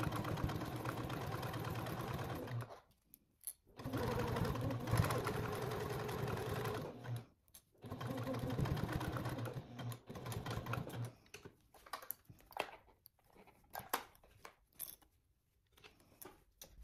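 A sewing machine basting a seam on fabric along the edge of the presser foot, working on a trick-or-treat bag: steady mechanical whirring runs in several bursts, each stopping briefly, then sparser clicks and short stitches toward the end.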